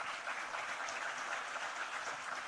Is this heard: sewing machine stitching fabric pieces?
no